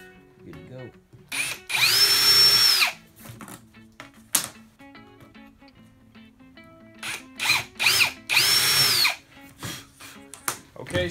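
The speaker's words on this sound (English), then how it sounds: "I like to get a little starter hole there with my punch. All right, drill these out" Two loud bursts of a power drill boring into wood, each whining for about a second, with clicks and handling noises in between.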